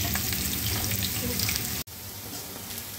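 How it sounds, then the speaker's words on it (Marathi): Sliced onion fries in hot oil in a pan, a dense, crackling sizzle that runs steadily, cuts out abruptly for a moment, then resumes a little quieter. "त्याच तेलामध्ये आपण कांदा आता तळून घेऊ। कांदा छान ब्राऊन होईपर्यंत तळायचा आहे।"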